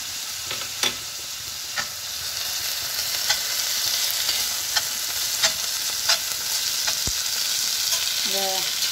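Tomatoes sautéing in a pan for kottu parotta, a steady sizzle punctuated by regular spatula scrapes and clicks roughly every second, close and clear with no speech.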